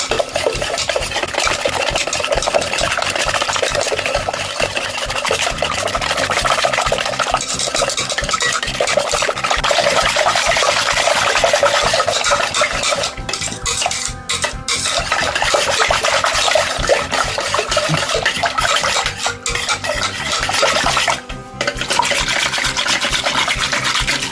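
Continuous scraping and swishing of a spoon working through thick muskmelon cake batter in a bowl, steady and close, with brief pauses.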